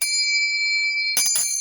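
A pair of hand bells rings one after the other: a sustained bright tone rings on and decays, then a second bell is struck, giving a sharp, clangy attack with shimmering overtones, close and clear.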